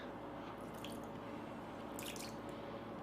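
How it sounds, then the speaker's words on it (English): Water drips and trickles off a waterproofed shoe, a soft, close splashing and dripping with a couple of brighter spattering bursts over a steady low background, with no talking. "You see water just running off the shoe like crazy."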